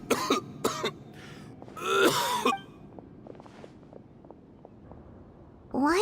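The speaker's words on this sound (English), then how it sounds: "Why is he coughing so much?" A man coughs and clears his throat in harsh bursts, then groans, followed by quiet footsteps and another raspy cough near the end.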